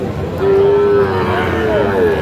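A calf or young bull at a Rangpur cattle market gives a long, loud, close moo, then a second rising call, over a busy background murmur.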